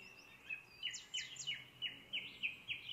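Birds in rural countryside give a series of faint, thin chirps and short whistled calls at an irregular pace, distant over a quiet background.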